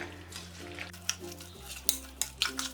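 A spatula stirs biryani masala with fried onions in a pan for prawn dum biryani, giving soft sizzling and a series of sharp scrapes and clinks against the metal, with no voices.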